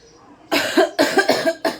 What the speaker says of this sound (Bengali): কাশিটা কমছেই না